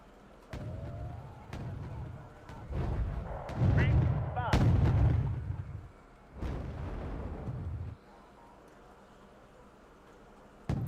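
Long-range naval gun on the Congo warship firing a salvo in the strategy game Wargame: Red Dragon, several heavy booming blasts in close succession with rumbling tails, loud and near.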